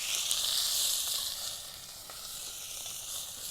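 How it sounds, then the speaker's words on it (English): Beef searing in a hot pan on a camping trip, a close, steady, loud sizzle and crackling hiss that eases slightly midway, with no talking. "we're only trying to sear the outside"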